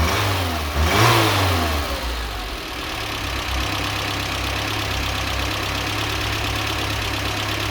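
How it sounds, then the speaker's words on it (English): A Peugeot 305 car engine cranks and fires up, then settles into a steady, close idle with a low, even hum and a faint rattle throughout; no one talks. "I'm gonna start the car now"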